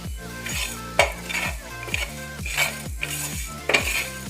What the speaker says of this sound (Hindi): इसमें डाल देते हैं हम अपना मसाला और इसको भून लेंगे